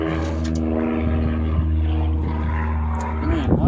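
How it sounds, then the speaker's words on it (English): A propeller airplane drones overhead outdoors on a windy day, a steady low rumble with a held engine tone that stays fairly loud throughout, with a campsite water-boiling setup nearby. "man, lots of planes today."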